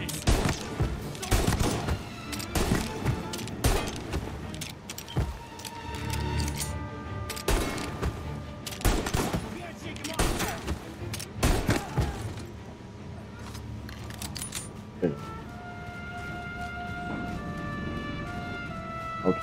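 Tommy gun fire crackles in a video game, with dense bursts of rapid shots and thuds for several seconds that thin out into scattered hits and mechanical clinks.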